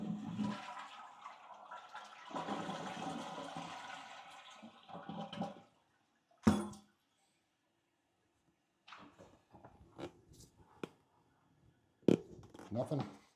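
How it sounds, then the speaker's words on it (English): A newly installed toilet flushes with a loud rush of water that then fades to a quieter refill trickle, with brief knocks and clicks near the tank. A voice talks over the opening stretch. "now we're going to watch around the base when I flush"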